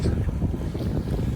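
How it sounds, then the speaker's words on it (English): Strong wind gusting at a snowy beach house construction site in December, a steady loud rush buffeting the microphone throughout with no talk. "So the wind that consisted 40 miles an hour, in some cases gusts of as high as 50."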